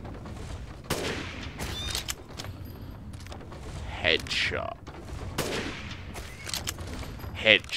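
Rapid machine gun fire rattles through Resident Evil 8 in several sharp bursts, with a few louder cracks standing out between quieter stretches of the game.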